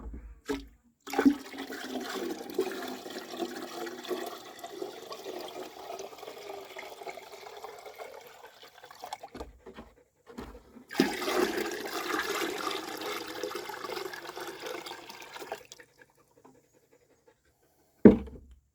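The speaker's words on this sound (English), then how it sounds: "now I'm going to top these guys off with more rainwater" Rainwater poured from a bucket into a garden brewing container, two long sloshing pours of several seconds each separated by a pause, close and fairly steady, with a few clunks of the bucket at the start and end.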